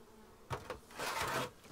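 Honeybees buzzing around an opened hive during an inspection, a dense rising and falling hum with a louder swell of wingbeats, close and fairly quiet, with no voices.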